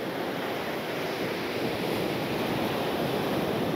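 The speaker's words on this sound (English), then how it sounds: "we can notice some pretty large waves for this side of the island" Large ocean waves roll in steadily at Manchebo Beach, Aruba, a continuous broadband surf roar with some wind noise and no talking.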